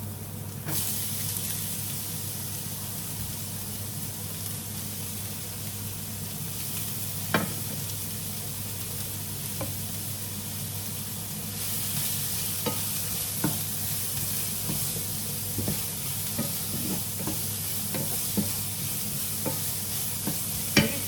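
Onion and garlic frying in a pan while preparing lasagna: a constant soft sizzle and hiss runs throughout, with occasional light stirring scrapes and taps, and no voices.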